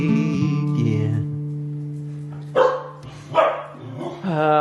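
A pet dog barks eagerly, wanting to play frisbee after dark, with a sustained tonal drone underneath and a few sharp, loud barks standing out near the end.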